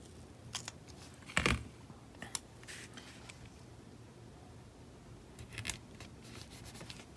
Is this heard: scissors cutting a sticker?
yes